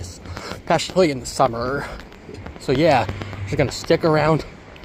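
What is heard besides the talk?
None of the usual background noises is heard.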